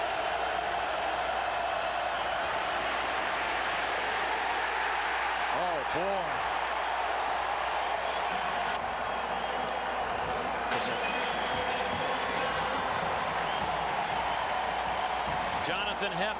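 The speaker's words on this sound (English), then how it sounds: "Listen to the crowd on 3rd down." Fans at a college football game between Arkansas and Tennessee roar on third down, a sustained, far-off wall of crowd noise under steady commentary from announcers.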